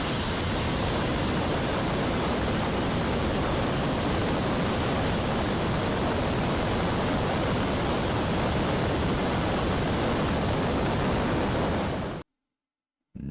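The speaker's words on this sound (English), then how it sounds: "You can hear the turbo pumps, well, pre-burners in this scenario with this engine." A continuous, loud, broadband roar of a rocket engine firing, with turbo pumps and pre-burners, holds steady for about twelve seconds, then cuts off abruptly into silence.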